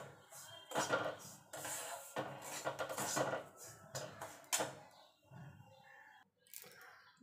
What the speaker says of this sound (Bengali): মিনিট খানেক একটুখানি ঘিয়ের সঙ্গে নাড়াচাড়া করে নিলেই হবে।